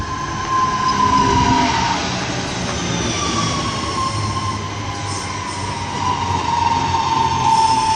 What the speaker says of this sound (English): As that train pulled in